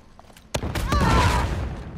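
AK rifle fire in the video game Uncharted 4 erupts about half a second in as a sudden loud blast, then continues as a dense, sustained rattle of shots to the end.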